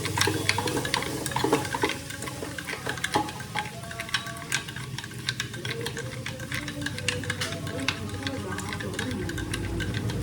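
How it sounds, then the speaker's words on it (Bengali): A spoon stirs yogurt with sugar and salt for homemade lassi, giving a run of fast, close clinks and wet scraping ticks against the bowl that goes on throughout. "দই, চিনি আর একটু নুন নিয়ে নিয়েছি। তো এটাকে একটু ভালো করে চামচ দিয়ে নেড়ে নিচ্ছি।"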